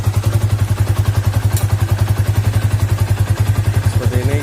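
A Yamaha Vixion motorcycle engine runs hot at idle, a loud, close, rapid mechanical pulsing with a steady rhythm and a thin high whine over it, alone without talk.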